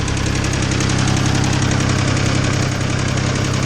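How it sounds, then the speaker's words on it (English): A 1991 Mitsubishi 3000GT VR-4 engine idles with a steady, loud drone close by, a constant low rumble and broadband hiss of air rushing into the intake. "if you put your head over here, you can hear the air sucking in"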